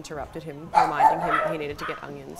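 Dogs bark in a brief burst partly masked by someone talking indoors.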